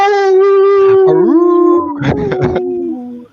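People howl like wolves in a loud, close chorus of long rising and falling voiced howls that overlap and trail off into yips and whimper-like cries; human voices imitating wolves.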